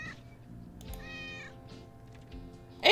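A cat meows a few times, one clear drawn-out meow in the middle among softer shorter calls, fairly close and alone in a quiet room, ending in a sudden loud noise.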